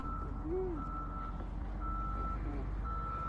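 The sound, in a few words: truck reversing beeps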